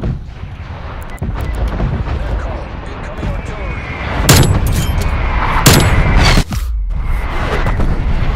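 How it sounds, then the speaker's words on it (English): Artillery strikes land during a video game match, sharp booming impacts cracking out over a continuous rumble of battle noise, with a voice talking at times. "Artillery targeting detected."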